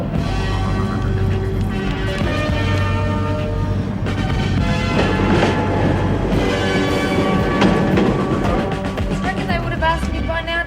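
A train rolling along the rails, a loud continuous rumble with rhythmic clacking and a ringing, bell-like tone running through it.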